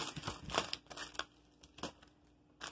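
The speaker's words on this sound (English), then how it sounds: "So I've already cut the bag open. So, this is what we got." Plastic bag holding AB diamond painting drills, already cut open, crinkling and rustling in close handling with a few sharper crackles scattered through, quiet and alone.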